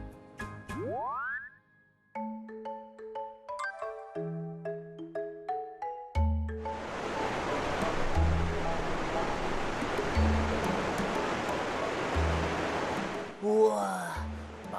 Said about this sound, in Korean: 마치 폭포수가 떨어지는 것 같이 멋지네